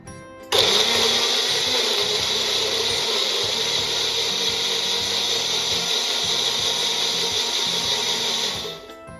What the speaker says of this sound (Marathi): आता आपण हे ग्राइंड करून घेऊया.